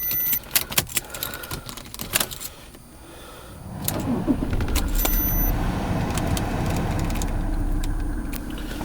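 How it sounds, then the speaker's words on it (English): Keys jingle and click, then the diesel engine of a 1997 Mercedes-Benz E300 cranks and catches, settling into a steady, close, rattling idle. "On this car, I will start up the car."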